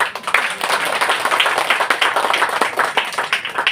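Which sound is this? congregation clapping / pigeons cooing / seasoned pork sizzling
congregation clapping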